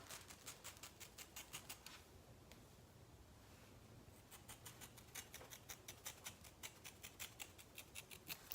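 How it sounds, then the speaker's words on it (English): Shears snip through synthetic wig hair in a quick, steady run of crisp close cuts, pausing briefly midway before the rapid snipping resumes, with no voices. "So now I'm just gonna cut down."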